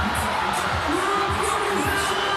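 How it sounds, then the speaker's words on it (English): An arena crowd at Kudos Bank Arena cheers and whoops during a CrossFit regional event, a dense sustained roar of many voices with scattered shouts throughout. "The entire crowd here at Kudos Bank Arena"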